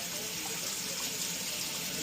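Water from a kitchen sink tap runs in a steady, even hiss and splash, close and continuous, with no voices over it.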